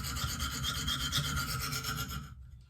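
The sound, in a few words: sharpening a Benchmade knife on a KME sharpener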